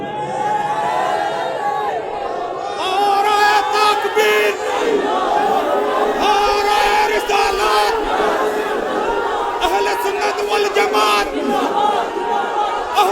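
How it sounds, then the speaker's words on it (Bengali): A large crowd at an Islamic religious gathering (waz mahfil) loudly chants slogans in unison, their massed voices rising in repeated rhythmic shouts that stay sustained and close. "আমার সাথে কে কে আছেন হাত তুলে স্লোগান লো"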